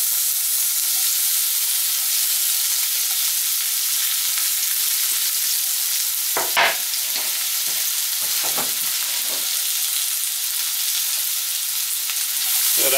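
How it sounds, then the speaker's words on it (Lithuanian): Onions frying in a pan for a chicken stew with roasted potatoes and vegetables, a constant close hissing sizzle, with a few sharp clatters of stirring about midway and no talking. "Dabar čia dedam svogūnus."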